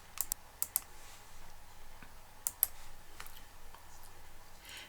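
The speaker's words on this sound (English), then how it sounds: "Type museum into the destination field and then click on Apply Filters." Light typing on a computer keyboard, a few quiet clustered key clicks at the start and again midway, close and faint over a low room hum.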